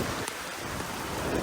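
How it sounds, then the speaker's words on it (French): Heavy rain pounds a sailing boat at sea in the Vendée Globe race, a dense, loud, continuous hiss of a downpour with no voices. "Oh, le déluge, attendez, je sors vite fait."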